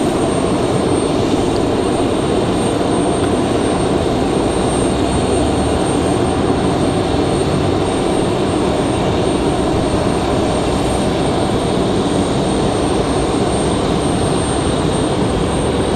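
Sun Country Boeing 737-8 jet arriving on runway 23 left at Raleigh-Durham airport, a steady, broad engine roar with a whine that holds loud and constant throughout, without speech.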